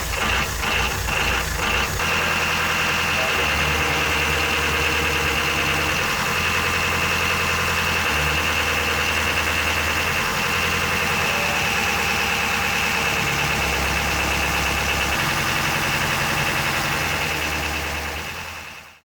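A 50-year-old marine diesel engine fitted in a boat idles steadily, a loud continuous low throb with a rattling, knocking texture and a bright mechanical whine above it, running alone before cutting out at the very end.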